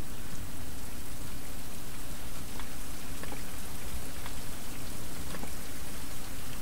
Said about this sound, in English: Current weather, rain, and this does some protection from rain,